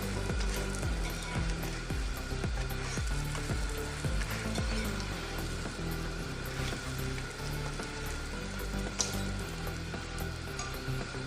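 A square layered paratha fries on a hot griddle, giving a steady, loud sizzle with soft crackles as it is gently moved around, with no talking.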